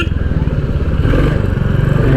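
Royal Enfield Classic 350 motorcycle riding and weaving zigzag through traffic, a loud, close, steady thumping engine rumble with slight rising revs over its short length.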